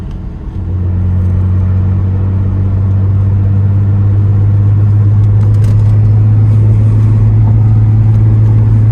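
A car engine holds a steady low drone while cruising in fourth gear around 2000 RPM, a constant close hum inside the cabin with no voices.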